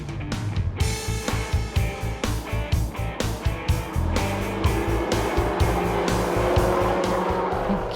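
Dodge Challenger and Hellcat cars at speed on a race track, loud engines roaring with rapid pulsing bursts and tire squeal, continuous and close with no voices.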